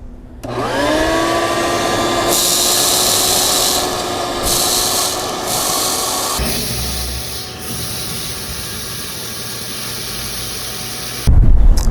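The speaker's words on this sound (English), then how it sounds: "then you can turn it on and vacuum out the seed in your drill box" A shop vacuum starts with a rising whine, then roars steadily while sucking seed out of an Esch 5505 no-till drill's seed box, with scraping and rattling bursts, before switching off.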